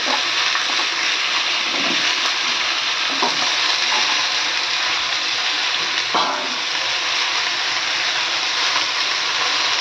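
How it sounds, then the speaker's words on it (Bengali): Mixed vegetables for a Bengali-style dish sizzle in a pan while they sauté. A continuous fry hiss runs throughout, with a few louder stirring scrapes, and no voices are heard. "আগে সবজিটা দিয়ে কিছুক্ষণ আমি কষিয়ে নেব"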